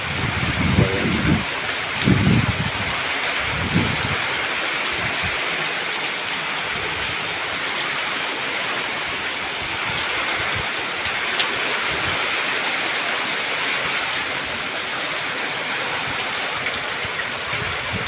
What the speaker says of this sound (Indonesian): Malam ini hujan besar kayak angin badai besar sekali ya.